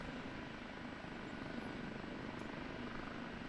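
An OH-58D Kiowa Warrior helicopter lifting off from a runway in the DCS flight simulator, its steady rotor and turbine drone holding even and unbroken, fairly quiet and alone.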